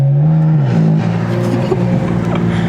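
A BMW F82 M4 with an aggressive DCT gearbox accelerates hard, its loud engine note climbing steadily close up inside the car.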